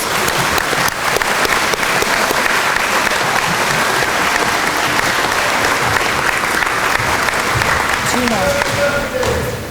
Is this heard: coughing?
no